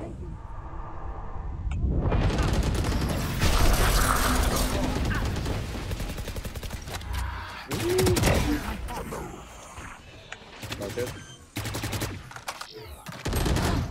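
Gunfire in the Valorant video game on the Ascent map: heavy, rapid automatic bursts fill the first half, then shorter volleys and single shots come in sharp, irregular bursts among other game effects.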